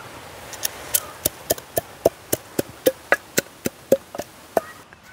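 Cloves, cardamom, nutmeg and other whole spices pounded into powder in a village kitchen: about seventeen sharp, evenly spaced thuds in a steady rhythm, close and fairly loud, with no talking.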